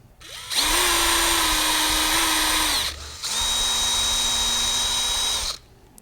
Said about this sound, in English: These are drilled at an angle here.